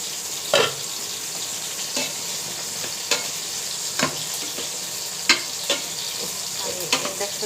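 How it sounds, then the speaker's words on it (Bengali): Fish frying in oil in a pan on an induction cooktop, a close, continuous loud sizzle with occasional sharp clinks and stirring knocks. "মাছটা ভালো করে ভেজে নিয়ে আসছে, খুব বেশি করে ভাজবো।"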